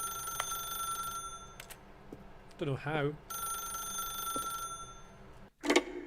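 A telephone rings in The Stanley Parable, two long trilling bursts with a gap between them, moderately loud, while someone speaks briefly over it and a short harsh clatter follows near the end.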